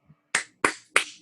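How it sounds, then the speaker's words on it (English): A weak round of applause at a comedy show, just three isolated sharp claps spaced evenly, close and crisp with silence between them. "Guys, that's the saddest applause ever"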